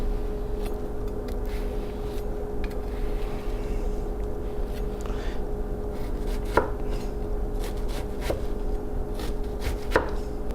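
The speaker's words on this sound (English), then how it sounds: "We're gonna go ahead and slice the onion through the root end." A knife slices an onion through the root end on a cutting board, producing a series of soft, irregular taps and a few sharper knocks over a steady low background hum.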